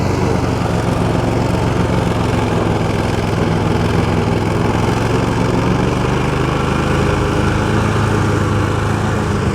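A Toro Titan 60-inch zero-turn mower from 2020 drones loud and steady as it cuts through thick, rough pasture brush, its engine and blades holding a constant close roar.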